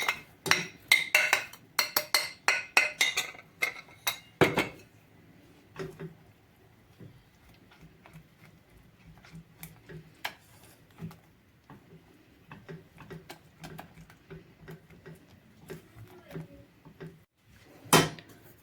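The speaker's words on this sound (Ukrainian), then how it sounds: "Щоб рівномірно розмішати крохмаль, я використовую вінчик" Wire whisk beating starch and sugar into a berry puree in a bowl, with a dense run of quick clicking taps early on, then sparser, softer scrapes and knocks, close and fairly quiet, no talking.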